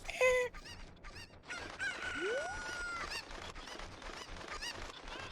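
Rooster crowing from a farm animal in the video game The Legend of Zelda: Ocarina of Time, a sharp game sound effect at the start followed by a rising crow and further fowl squawks over busy background game music.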